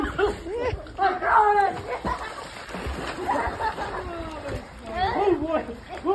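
Boys jump into freezing cold water on a birthday outing, splashing amid excited talk, shouted counting and laughter from children and adults nearby.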